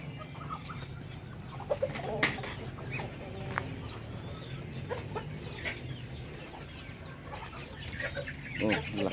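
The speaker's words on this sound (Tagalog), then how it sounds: "Malaki na rin itong mga sisiw natin dito." Backyard chickens and growing chicks, with scattered clucks and peeps near and far over a low outdoor background.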